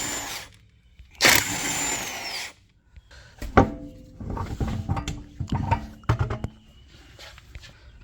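A power tool spins off the 19 mm lug nuts from a lifted Honda Accord wheel in short, loud bursts separated by pauses, with metallic clinks and handling noises between them.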